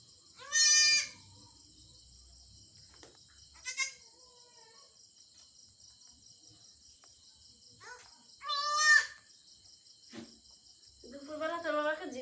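A goat at a rural home gives several loud, wavering bleats spaced apart, over a steady background of chirping insects, with a faint voice near the end.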